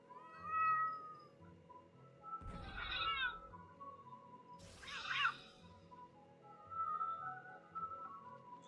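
Cats in a video game demo meow repeatedly, several distinct drawn-out cries with a couple of harsher yowls, clear and close over a low hum, with no talking.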